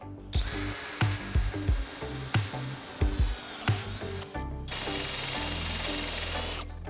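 A power screwdriver with a 10 bit drives 6.3 mm self-tapping screws into metal for sliding gate brackets, giving a steady high motor whine under repeated short thuds. A pause is followed by a second long run.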